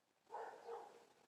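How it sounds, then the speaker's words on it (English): A dog gives a single short, faint double-pulsed bark, heard alone against quiet background. "Dog barks."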